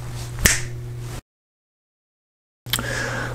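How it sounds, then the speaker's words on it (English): A single sharp finger snap rings out near a small Fluval EVO 5-gallon pico reef aquarium, followed by a sudden cut to silence before a low hum returns. "I'm going to snap my fingers"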